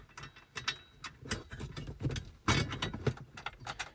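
Ratchet tightening bolts during traction-control disabling work: a rapid run of quiet clicks and ticks with uneven rhythm, close by, with a few brief pauses and no talking.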